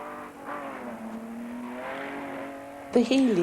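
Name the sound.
Austin Healey 3000 rally sports car engine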